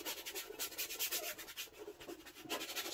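A paintbrush scrubs paint onto a canvas while a seascape wave is painted, giving a close, steady rasping rub with short rhythmic strokes and no talk.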